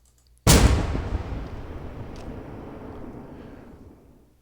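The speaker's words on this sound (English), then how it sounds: "You'll notice they're all basically exploding firework impulses." A single sharp firework bang cracks out, used as a reverb impulse sample, followed by a long reverberant tail that slowly fades over several seconds.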